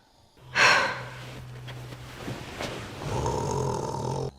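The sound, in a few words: snoring while asleep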